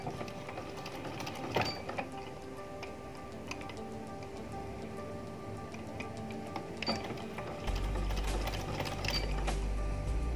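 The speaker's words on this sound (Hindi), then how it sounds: "अब आप इसके ऊपर सिलाई लगाएं।" A sewing machine stitches fabric for a fancy sleeve, running in quick ticking bursts with pauses, then a steadier hum near the end, close and alone without talk.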